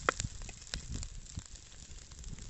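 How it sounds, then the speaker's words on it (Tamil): Ground thoothuvalai leaves and masala paste sautéing in a pan for rasam, a faint, steady crackling sizzle with a few soft pops, heard alone. "இந்த தூதுவளை, அரைச்சி வச்ச மசாலா இதெல்லாம் வந்து பச்சை வாசனை போகிற வரைக்கும் நம்ம வதக்கணும்."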